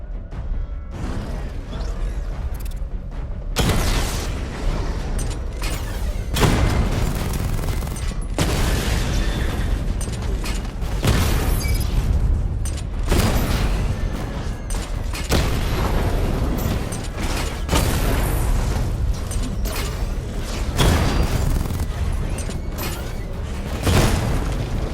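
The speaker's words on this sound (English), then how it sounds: "Charge up missile barrage to level 2 and destroy 4 active targets to complete diagnostic test." Rapid rolling series of heavy missile blasts from the Batmobile's missile barrage in Batman: Arkham Knight, loud booming bursts repeating every couple of seconds over a continuous rumbling game soundscape.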